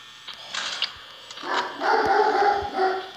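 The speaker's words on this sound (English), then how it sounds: "That's just my dog." Dog barking indoors, a few short muffled barks and yips coming in uneven bursts, moderately near and fairly quiet against a quiet room.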